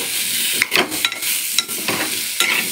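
Tomatoes and garlic sauté in a pan for a gut curry, a loud continuous sizzle broken by several sharp scrapes and clacks of a spoon stirring at irregular intervals, with no talking.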